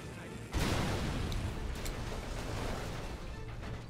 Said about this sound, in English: where in the fuck did that rocket come from?